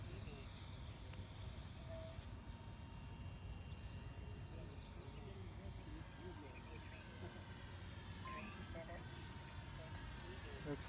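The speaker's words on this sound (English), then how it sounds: "I'm going to now go into a speed mode. Do a fast flyby." A hobby RC V-22 model aircraft makes a fast flyby, its motors giving a steady faint droning hum with wind noise throughout, while a person talks over it.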